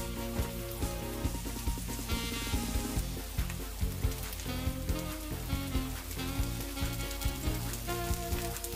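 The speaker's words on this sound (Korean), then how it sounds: "이렇게 썰어 놓은 송이 볶음을 넣겠습니다" Sliced pine mushrooms stir-frying in a hot pan give a steady, close sizzle with crackling pops throughout, while a tonal background sound runs underneath.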